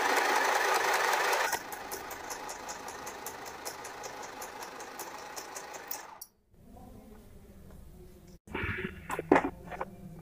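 A portable mini sewing machine stitches fabric with a quick, even mechanical rattle that runs steadily for about six seconds, then stops before faint handling noises.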